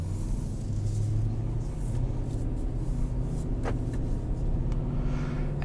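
A 2022 Infiniti QX80 SUV drives along with a steady low engine and road rumble heard from inside the cabin, plus a few faint clicks and no voices.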